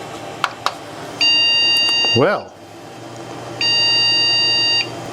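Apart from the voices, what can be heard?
computer POST beeps from motherboard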